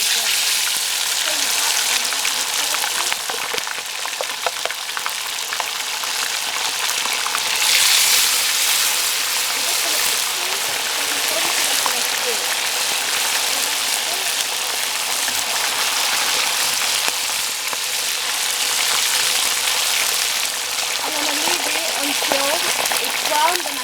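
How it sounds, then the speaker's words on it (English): Fish frying in hot oil gives a steady, dense sizzle with scattered pops and crackles throughout, loud and close, with a voice talking faintly over it at moments. "So yes, I'm just going to fry it now."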